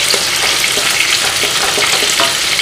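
Chicken butter masala being stirred as it fries in a pan: a loud, continuous sizzle up close with scraping strokes from the spoon running through it.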